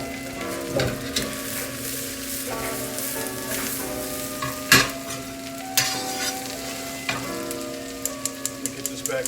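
Onions, mushrooms and other vegetables for chicken chow mein fry in a hot pan, sizzling loudly with clattering stirs, metallic clinks and a short run of quick taps near the end; nobody speaks.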